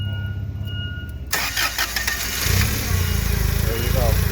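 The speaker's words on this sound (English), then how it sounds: "So basically the engine is dying off because we are losing fuel" A Toyota truck engine cranks with a whirring starter, catches and runs roughly with a pulsing idle as it loses fuel and struggles, close by, with a voice speaking over it.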